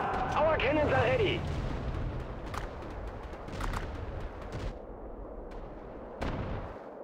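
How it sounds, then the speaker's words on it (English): Cannon artillery fire in the WWA RTS war strategy game, a few booming shots and blasts over a continuous battlefield din, with a voice speaking at the start. "Our cannons are ready!"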